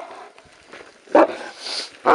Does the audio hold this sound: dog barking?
yes